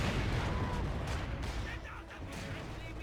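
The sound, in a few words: mortar hit in the video game Company of Heroes 2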